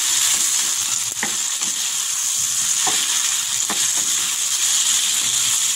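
Meat fries in a pan with salt and turmeric while being stirred, giving a loud, steady, close sizzle with a few brief scraping strokes and no speech.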